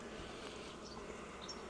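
Honeybees buzz around a beehive frame during a hive inspection, a soft, continuous hum with a few individual bees droning briefly closer, all fairly faint.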